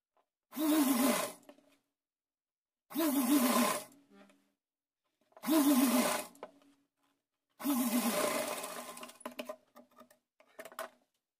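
Sewing machine stitching a brocade Laddu Gopal dress piece over its lining, in four separate close bursts of whirring lasting about one to two seconds each, with brief pauses between and no talk.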